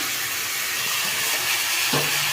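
Onions frying in a pan with salt, a steady loud hiss and sizzle filling the clip without pause.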